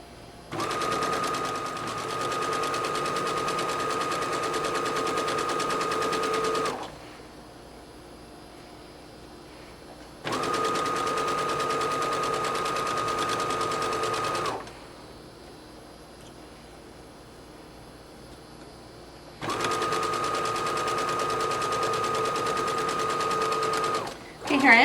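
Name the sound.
sewing machine stitching a mop cap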